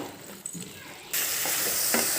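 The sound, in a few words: sautéing country chicken with spices in a pan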